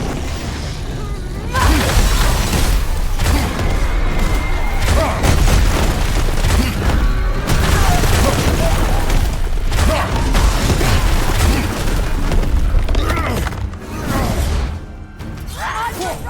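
Incoming fire in the video game God of War Ragnarök, with loud continuous booming blasts, crashing debris and whooshes forming a dense, sustained barrage up close.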